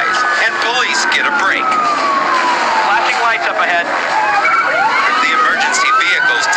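Emergency vehicle sirens wailing during a police chase, rising and falling tones that overlap and sweep loudly over traffic noise, with a voice talking over them throughout.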